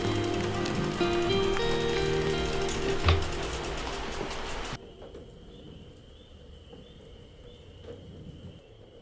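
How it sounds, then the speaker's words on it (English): Light rain falls on a camping shelter as a soft, steady patter. Some louder mixed noise plays at first, then drops away, leaving the rain alone with faint insect chirping. "Well, it's just a light rain."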